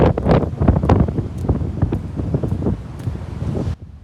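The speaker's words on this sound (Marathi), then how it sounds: "आणि समुद्राला भरती सुद्धा आली आहे, त्यामुळे वारा खूप जास्त आहे." Strong wind blows at the seashore at high tide after rain, with continuous gusty buffeting close to the microphone that runs for about four seconds before easing.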